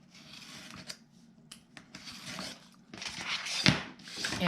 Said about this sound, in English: simply going to come in and snip away that excess